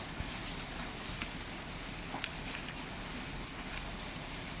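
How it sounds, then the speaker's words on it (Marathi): Steady rain falls outdoors, a dense even hiss with occasional sharper drops standing out faintly, no voices over it. "हा बघा पाऊस पडतोय मध्येच पाऊस चालू आहे"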